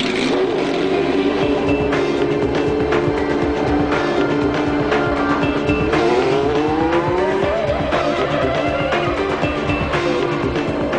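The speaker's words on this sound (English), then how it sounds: "European Minardi team had no less than 5 two-seater Formula One cars at Donington" Two-seater Formula One race cars at Donington roar past in a loud, continuous engine drone, with rising and falling pitch sweeps as they accelerate and pass.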